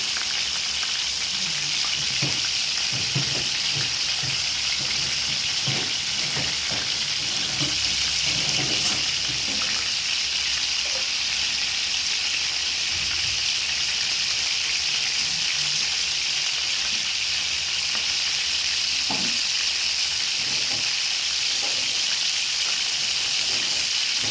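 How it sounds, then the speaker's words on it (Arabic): Chicken browning in hot oil in a pan, a steady loud sizzle and crackle that runs without pause, with occasional faint scrapes and clinks. "الدجاج يسخن معنا، غادي غير نحمروه ما غاديش نطيبوه"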